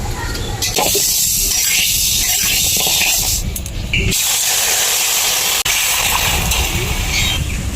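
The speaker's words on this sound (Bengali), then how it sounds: "মুগের ডালের ভাজা গন্ধ বেরিয়ে গেছে এবার আমি জল দিয়ে দেব সিদ্ধ করার জন্য" Water is poured onto fried moong dal in a hot pan and sets off a loud, continuous steamy hiss. The hiss runs nearly unbroken from start to finish, with only a brief dip partway through.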